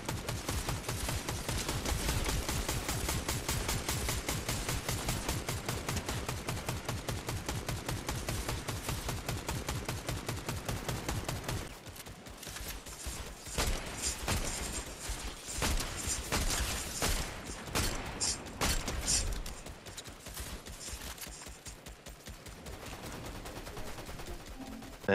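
Rapid, continuous automatic gunfire from a computer-controlled enemy in the video game Fortnite, dense and loud for about half the stretch, then thinning into scattered bursts and other game noise.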